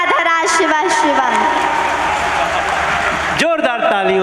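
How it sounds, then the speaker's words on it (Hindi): Loud crowd applause and cheering greet a young girl's Shiv stotra performance, a dense continuous clapping roar with voices talking over it. "जोरदार तालियों से"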